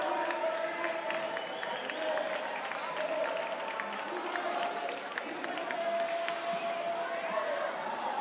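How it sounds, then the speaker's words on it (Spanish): An audience applauds at a 2015 awards ceremony as professional-category winners are called to the stage. The clapping is dense and steady and comes from a large crowd. Voices carry through it throughout. "Un aplauso."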